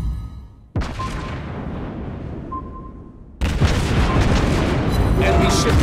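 Loud torpedo explosions in a video game, a sudden heavy boom followed by a long rumbling decay, then a second massive blast that keeps roaring to the end, with faint game tones between.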